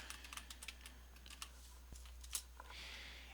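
Quick, light taps on a computer keyboard as a short name is typed, faint and close, with a brief click or two near the end and no voices.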